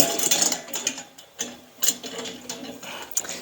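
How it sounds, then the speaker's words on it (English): Screws being driven in during assembly of a Hampton Bay outdoor gas patio heater give off a series of faint, close ratcheting clicks and metallic ticks in irregular bursts, with no voices. "we're going to continue putting our screws in"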